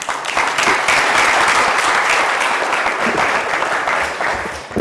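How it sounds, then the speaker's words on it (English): Applause rolls through a council chamber during Milton Keynes City Council's annual meeting, dense and even for several seconds before easing slightly near the end. "so that was worth a clap, wasn't it?"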